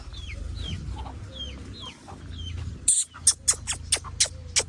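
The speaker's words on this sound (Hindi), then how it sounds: "ये देखें सारी मुर्गियाँ जो है ना यहाँ पर इकट्ठी हो चुकी हैं" Village chickens gathering in one spot cluck in a series of sharp, evenly spaced calls, preceded by softer bird chirps over a low background rumble.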